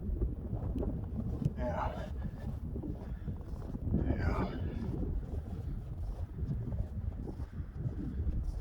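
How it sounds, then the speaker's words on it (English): Gusty wind buffeting a microphone on a chilly snowstorm morning walk near a train bridge, a constant low rumbling roar with a couple of stronger gusts, and a voice briefly speaking over it. "It's too windy."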